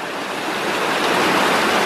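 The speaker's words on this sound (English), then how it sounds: "Just goes to show you how much water can come off the hill with a couple of hours of rain." A stream of rain runoff rushes down a New Zealand hillside after a couple of hours of rain, making a loud, continuous broadband roar that swells slightly, with no talk.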